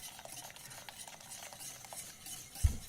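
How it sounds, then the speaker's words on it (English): A whisk scrapes steadily through a cream and egg custard with matcha in a saucepan over medium heat, a soft, faint swishing stir that repeats quietly, ending with a slight knock against the pot. "continue to whisk on medium heat until a temperature of 170 to 173 degrees is reached"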